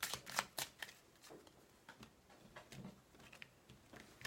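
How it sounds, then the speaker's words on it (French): Tarot cards are shuffled and drawn by hand, faint close-up crisp flicks and taps in an irregular run with no talking. "je vais essayer de vous tirer une carte"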